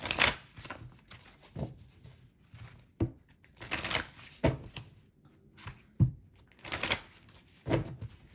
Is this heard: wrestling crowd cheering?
no